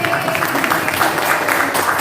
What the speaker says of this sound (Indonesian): Ya, boleh tepuk tangan dulu.